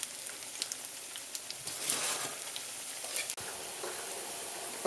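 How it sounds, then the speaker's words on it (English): Steady crackling sizzle of Brussels sprout bhajis frying in hot oil, with scattered pops and spits; continuous and close, no voices. "We'll just let them fry."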